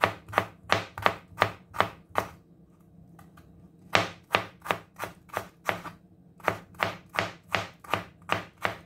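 Rapid knife chops slicing fresh ginger on a cutting board, arriving in brisk even bursts of sharp close taps, a short pause midway, then steady chopping resuming to the end.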